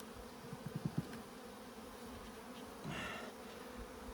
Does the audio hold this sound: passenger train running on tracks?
no